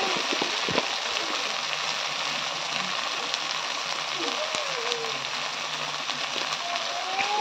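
Cumin seeds hit hot oil in a pan already holding onion, ginger paste and salt, giving a steady, fairly loud sizzle with faint crackles throughout, with no talking.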